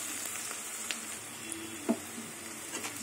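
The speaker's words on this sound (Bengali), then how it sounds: "দেখুন পেঁয়াজ ভাজা হয়ে গেছে।" Onions fry softly in a pan with salt, giving a faint, steady sizzle broken by a few small pops and stirring clicks.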